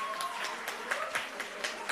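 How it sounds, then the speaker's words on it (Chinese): Warm applause for producer Sonia at a wrap party for the drama Sandwich, with scattered claps that swell in short bursts at moderate distance and faint voices underneath. "请大家给他一个热烈的掌声"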